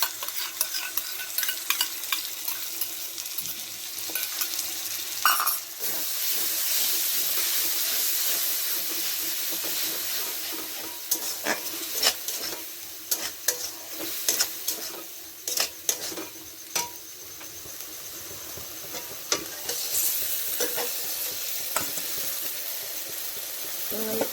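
Beaten sour yogurt hits a hot biryani pot and sizzles steadily while a spoon stirs, scraping and clinking against the metal in irregular bursts, close and alone.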